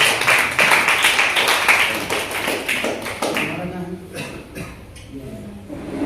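Students at a school self-defence training camp being applauded as gold medal winners: a dense burst of clapping from a crowd for the first few seconds, then thinning to scattered claps under voices.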